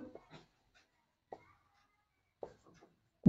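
Chalk or marker writing on a board during a physics lesson, heard as a few brief scratchy strokes in separate bursts with silent gaps between them, quiet and close. A small soft voice sound or breath appears at the very end.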